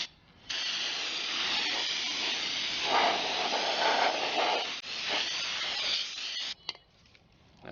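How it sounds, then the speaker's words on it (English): Aerosol brake cleaner sprays in a steady, loud hiss for about six seconds onto the rotor of a 2000 Ford Mustang V6 during front brake replacement, then stops with a brief clatter. "Go ahead and just spray it off."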